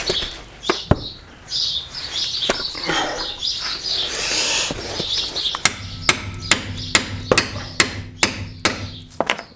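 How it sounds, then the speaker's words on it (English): Steel hammer strikes a chisel driven into the split of a Peugeot front hub to free the ball joint: a run of sharp, evenly spaced metallic clanks, close and loud, after a stretch of rustling workshop noise. "you want to put the chisel in there to open it up"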